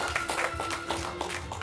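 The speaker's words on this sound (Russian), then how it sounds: "Ваши аплодисменты!" Audience applause at a traditional Russian wedding celebration, a steady dense wash of clapping with a few louder bursts over a sustained background tone, no speech.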